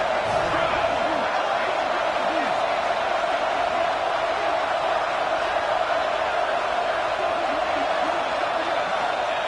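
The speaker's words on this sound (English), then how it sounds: "the crowd coming to life here, trying to help this defense down in the red zone" A football stadium crowd at a Tennessee versus Oregon game roars steadily as the home defense digs in near its own goal line, the broad, loud wash of cheering holding at full level throughout with no breaks.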